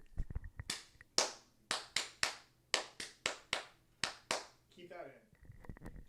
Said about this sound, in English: Do you need to clap for him?